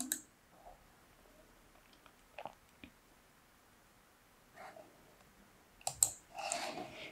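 Faint, sparse clicks of a computer mouse sound in a quiet room as a coding program is opened on a computer, scattered singly with a brief cluster near the end.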